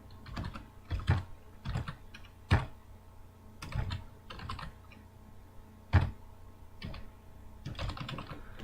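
Keys on a computer keyboard are typed in quick, irregular bursts of sharp clicks, close and fairly quiet, with brief pauses between keystrokes and no talk.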